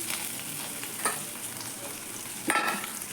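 Boiled potatoes fry and get stirred in a pan, a steady close sizzle with a couple of louder scraping stirs near the middle and end, no voices.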